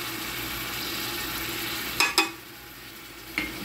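Spices for mutton modgud, added with carrot, tomato and chicken cube, fry in a pan in a steady, soft sizzle, with a few brief utensil scrapes and clinks.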